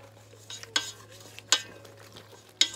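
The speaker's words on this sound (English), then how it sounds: "And if you guys notice, I'm still mixing" Dry ingredients being stirred by hand into wet whole-wheat waffle batter, soft scraping under a few sharp clinks of the utensil against the bowl.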